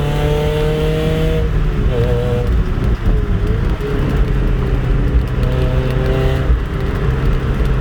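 Mazda Miata 1.8 with an eBay header, Borla dual exhaust and Magnaflow resonator, heard from inside the cabin with the windows open: a steady, raspy engine drone that rises and falls with revs, loud and continuous throughout.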